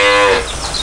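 A single loud, close moo from a cow lasts under a second and fades at the end, heard during a rainy-day delivery of Quảng Ngãi breeding cattle.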